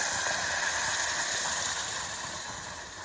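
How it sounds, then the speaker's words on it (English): Tomato puree sizzling in a pan, a steady bright hiss that stays constant and close, fading slightly toward the end, with no talking. "We're sizzling away."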